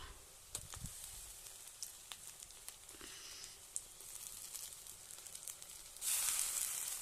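Onion fries in a pan with a faint, continuous sizzle, a few soft knocks early on and a louder burst of hissing near the end.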